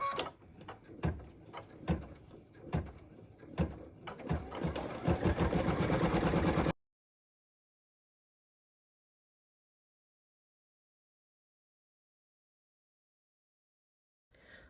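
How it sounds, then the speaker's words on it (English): An embroidery machine stitching batting placement lines onto stabilizer, a rhythmic mechanical whir with regular needle thumps for several seconds, then silence and a brief restart at the very end. "we're going to start by stitching the batting placement lines right on the stabilizer"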